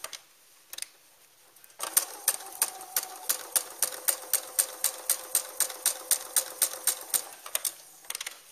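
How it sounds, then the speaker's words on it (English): Sewing machine stitching curved pieces of a peasant dress, a steady run of evenly spaced mechanical clicks with a light whirring hum, close and clear, starting after a second of quiet and stopping near the end. "then I'm going to sew them just like I sewed that sleeve on"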